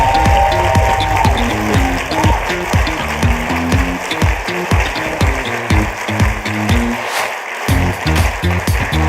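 Audience applause for the winner of the Young Woman Engineer of the Year Awards 2024, a dense, steady wash of clapping over loud rhythmic awards-ceremony music.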